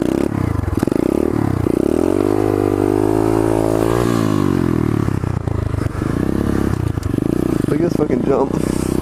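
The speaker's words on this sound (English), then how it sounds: "Alright, let's pull this wheelie." A pit bike engine revs hard, climbing through several rising, falling whines as it is pushed for a wheelie, loud and close, with scraping and clatter underneath.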